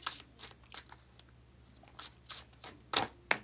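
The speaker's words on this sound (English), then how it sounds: "get to the bridge shuffle." Tarot cards are riffled together in a bridge shuffle, giving quick crisp flurries of paper flicks and snaps in short bursts, close and fairly quiet against a faint background hum.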